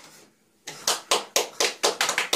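A group claps in a quick, steady rhythm after the candles are blown out at a birthday. The clapping is close and loud and starts after a short hush.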